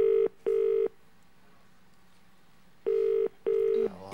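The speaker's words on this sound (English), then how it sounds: "Can we hear it ringing?" A telephone rings with two pairs of loud electronic double-rings, separated by a long quiet gap, close and clear with no other sound.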